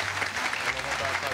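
Dense audience applause at a comedy stage show, steady clapping from a crowd that fills the whole moment, with some voices mixed in.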